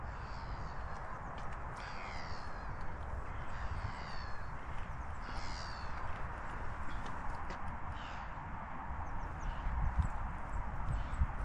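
A horse grazing on grass in open countryside near Copenhagen, with steady close rustling and crunching running throughout over a constant wind-like background, while crows caw and other birds call intermittently in the distance.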